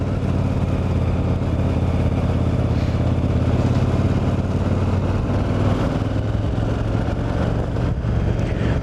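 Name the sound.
motorcycle running with a little rattle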